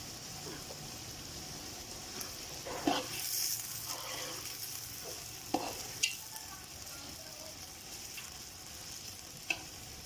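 Cumin seeds frying in oil for haleem, a quiet continuous sizzle with a few sharp clinks and scrapes of stirring against the pot, no talk.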